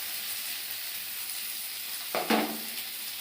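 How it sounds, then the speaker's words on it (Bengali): Onions sizzling in hot oil alongside frying fish, a steady loud crackling hiss throughout, with a brief clatter and stirring near the end. "মাছ ভাজার সঙ্গে পেঁয়াজ ভাজা।"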